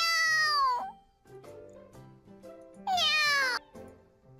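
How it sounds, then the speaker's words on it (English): A cat in a mobile game gives two loud, drawn-out meows about two seconds apart, separated by quieter low background sound. "At the night when I took the cat home with me,"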